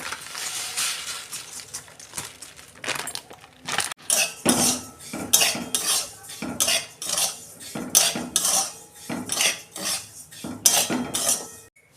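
Broken wheat (daliya) being stirred in a wok. A spoon scrapes and clinks against the metal in repeated bursts that grow more regular and louder after the first few seconds.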